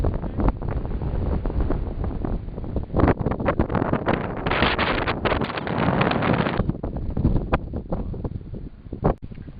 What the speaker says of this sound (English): Christ, it's so windy.